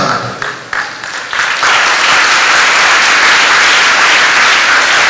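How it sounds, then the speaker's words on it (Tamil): A church congregation bursts into loud applause, scattered claps in the first second and a half building into a full, sustained roar of clapping that holds steady to the end. "சத்தமான ஒரு கைதட்டு ஆண்டவருக்கு."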